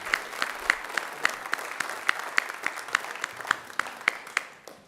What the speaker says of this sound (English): We can give you a hand of applause.